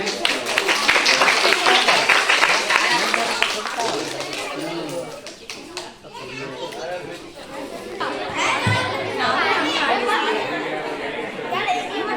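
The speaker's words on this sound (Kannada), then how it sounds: "ಭಾಗವಹಿಸಿದ ಎಲ್ಲಾ ಮಕ್ಕಳಿಗೆ ಜೋರಾದ ಚಪ್ಪಾಳೆ" Crowd applause for children who took part in a cultural stage program, clapping loud and dense for the first few seconds under lively crowd chatter, then easing into general murmuring and voices.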